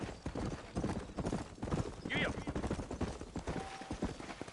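Horse hooves clip-clopping steadily in the Red Dead Redemption video game, a brisk rhythmic gallop close by, with a brief whinny partway through and game sounds behind.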